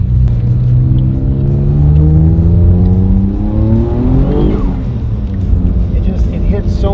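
A 500 wheel-horsepower Mitsubishi 3000GT VR-4 accelerates hard on the road, its engine rising in pitch through the revs, then dropping sharply at a shift before pulling again, loud and close.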